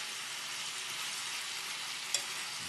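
Shrimp and mango cooking in a hot pan, with ripe mango just added to the spicy shrimp; a steady, even sizzle holds throughout with one brief sharper tick near the end, no voices.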